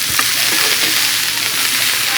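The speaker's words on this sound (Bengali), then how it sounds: "তো এখন এখানে বাসের স্প্রাউট ভাজা করে নিচ্ছি।" Brussels sprouts with turmeric and salt fry in a pan, giving a loud, steady, close-up sizzle with a brief clink near the start; no voices.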